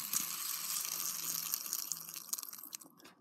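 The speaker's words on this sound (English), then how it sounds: "water timer, I really like my water timer" A water timer fidget toy gives a quiet, close trickle of water with soft bubbling and faint crackly drips that taper off toward the end.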